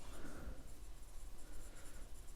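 Pen scratching on paper as notes are written by hand, a soft continuous rasp close by with no talking.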